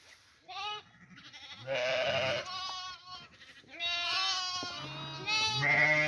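Several sheep and lambs bleat repeatedly on a foggy winter day, overlapping high and low calls near and far, loud wavering cries with brief quiet gaps between.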